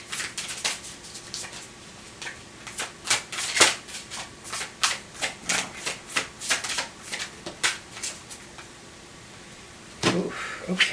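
Tarot cards are drawn and slid from a deck in a quick run of crisp paper snaps and shuffles, close and fairly quiet, with no talk over them.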